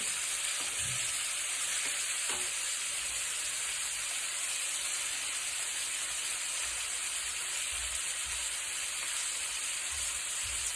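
Red chili powder goes into a hot pan of frying liver masala, and a loud steady sizzle and hiss fill the scene with faint stirring scrapes underneath.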